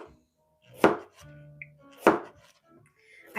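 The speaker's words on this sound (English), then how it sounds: "this one is sharp enough to cut carrots" A kitchen knife chops carrots on a cutting board, three sharp close strikes spaced about a second apart with quieter scraping and handling sounds between.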